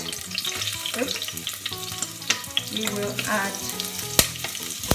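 Onion frying in hot vegetable oil in a pot over medium heat, producing a dense crackling sizzle with clinks and stirring scrapes throughout and a sharp knock near the end, close and fairly loud, with no one speaking.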